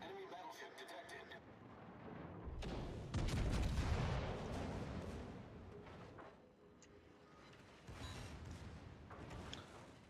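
Heavy booms of battleship main guns rolling out across a naval battle in World of Warships, a German battleship line, loud and dense for several seconds amid game effects and someone talking over it.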